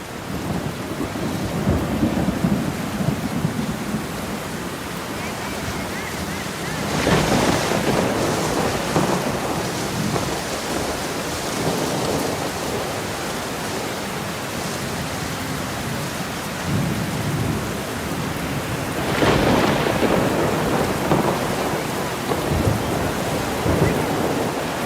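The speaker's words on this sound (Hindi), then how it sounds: "अब मैं बहुत तेज वाली बरसात करता हूं।" Heavy rain pours steadily while thunder rolls in two long swells, loud and close, with no voices over the storm.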